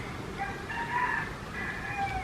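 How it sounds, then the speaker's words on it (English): A rooster crows in the distance, its long, wavering call rising and falling twice over a steady outdoor background hum. "all I can hear is cockerels."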